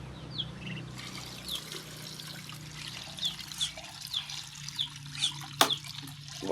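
Water trickling and being poured into drinking containers for small backyard animals at midday, a steady light splashing with sparse chirping birds around it, no talk.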